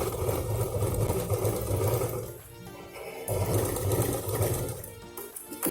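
A sewing machine stitches a purse in long, steady, whirring runs with a brief slowdown midway, loud and close throughout.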